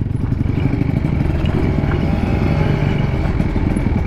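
A Kawasaki Ninja RR motorcycle engine runs steadily and loudly throughout, with a dense low rumble and rattly clatter as it sets off on a damaged road.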